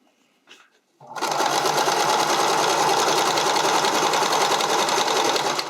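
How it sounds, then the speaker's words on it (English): A sewing machine zigzag-stitches elastic onto a neckline, its steady, loud mechanical whir starting abruptly after a second of quiet and running continuously to the end. "So just get your zigzag started."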